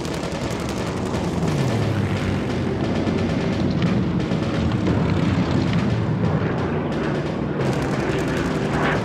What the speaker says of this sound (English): From a perfect attack position, the Spitfires strike, diving out of the sun.